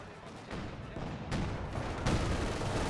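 Incendiary mortar barrage and gunfire in the strategy game Company of Heroes 2: a continuous rumbling battle din with several heavier thumping blasts at intervals, loud and dense throughout.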